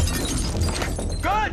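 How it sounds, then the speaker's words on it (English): Glass smashed by a firefighter during a rescue, a short burst of shattering and breaking under a busy, noisy background. "the guy cut through the glass, smashing the glass below."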